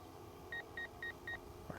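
A DJI M300 drone sounds its radar warning as four short, evenly spaced electronic beeps. The beeps are clear but moderate over a low rumbling background.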